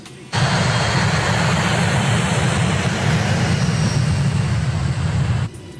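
An airplane in flight gives a loud, steady roar that cuts in abruptly, holds level for about five seconds, then drops away.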